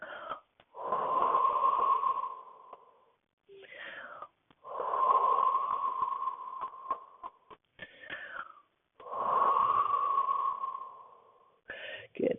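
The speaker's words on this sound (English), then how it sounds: "And take 3 deep breaths here." Deep, slow breaths during a leg and hip stretching routine: three long, steady airy inhale-exhale cycles, each lasting a couple of seconds, with short pauses between them, close and fairly soft.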